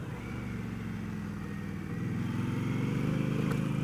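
A 2015 Indian Scout motorcycle with a Stage 1 package rumbles steadily at close range, the low engine note rising slightly as it rolls over railway tracks, with no talking.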